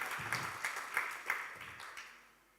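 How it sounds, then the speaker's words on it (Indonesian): A church congregation claps together during a worship service, a quick, steady run of hand claps at moderate distance that fades out over a couple of seconds. "Mau tepuk tangan boleh, jangan ragu-ragu."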